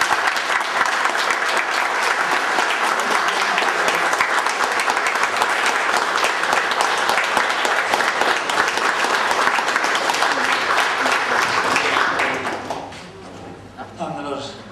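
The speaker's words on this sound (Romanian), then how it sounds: "Încă o dată aplauze!" A room of councillors and invited guests breaks into long, loud, dense applause at a formal council ceremony. The clapping holds strong for about twelve seconds, then thins and fades out, with a few scattered claps and sounds at the end.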